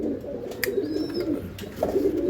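Pigeons of a top racing breed coo in a low, continuous warbling murmur, with a few faint chirps and clicks from the loft, and no talking.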